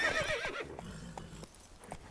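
A horse in The Witcher 3 video game gives a quick shrill whinny, followed by a few soft clip-clop hoofbeats at a moderate distance.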